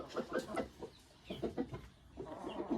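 An angry, territorial rooster calls from nearby in a backyard coop, giving a quick run of short, harsh clucking cries that come in two or three clusters over low background noise.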